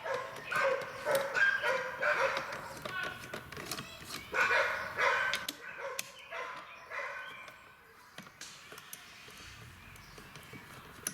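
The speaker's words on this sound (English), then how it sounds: "Man, I apologize for those dogs." Dogs bark in clustered bursts for the first several seconds, then fade out, leaving quieter background noise with occasional faint sounds.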